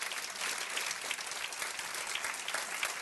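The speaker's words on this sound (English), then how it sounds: "Give them a big round of applause." Audience applause at a city State of the City address, a steady dense clapping heard alone at moderate distance, fairly soft and even for the whole short stretch.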